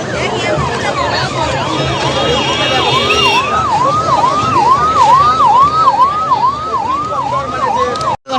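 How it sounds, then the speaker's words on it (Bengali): Wailing ambulance sirens sweep up and down repeatedly over steady traffic rumble during the Puri Rath Yatra festival, loud and close, with a second higher siren layered in the first few seconds. "দেখো একের পর এক অ্যাম্বুলেন্স কিন্তু চলেই আসছে"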